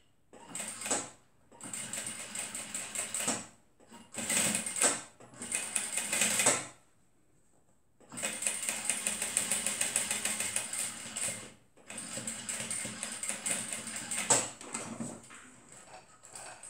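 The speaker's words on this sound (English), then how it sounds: "So I'm going to use my sewing machine, just pass it all around, make things easier." A sewing machine stitches around a lined zipper purse in several whirring bursts, each a few seconds long with a fast mechanical chatter, separated by short pauses, close and without speech.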